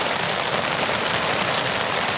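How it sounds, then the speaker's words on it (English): Heavy rain from a coastal squall drums on a Vango Banshee 200 tent during a wild camp, a dense and steady close patter with no pauses and no voices. "listening to the sound of the rain on the tent"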